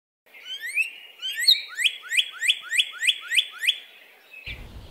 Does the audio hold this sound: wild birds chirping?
yes